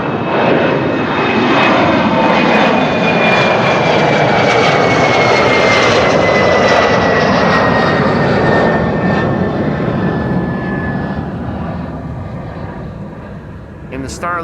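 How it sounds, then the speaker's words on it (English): A polished Embraer 170 jet in Star Alliance livery at Amsterdam Schiphol Airport, its engines giving a loud, steady roar with a falling whine that slowly fades toward the end. "at Schiphol there's always a lot to see, such as this polished Embraer 170."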